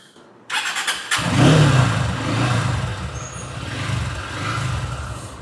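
A motorcycle is self-started rather than kicked, with a short cranking burst followed by the engine catching and settling into a steady, fairly loud idle nearby, and no talk.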